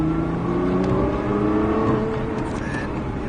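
A car accelerating hard during a driving lesson on a track, the engine note climbing steadily in pitch under close, continuous cabin noise for a few seconds.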